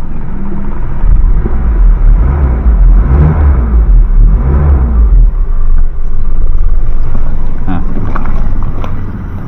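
A 1993 Toyota Kijang Grand Extra LGX idles with a low, steady engine rumble close by, while someone talks over it and some wind buffets the microphone.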